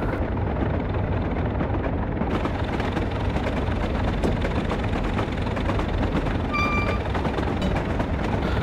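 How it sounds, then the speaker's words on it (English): Locomotive engine in a train simulator game drones as a loud, steady, unbroken rumble that stays constant throughout, with a faint whine briefly rising above it. "Hopefully that fixed the engine sound problem."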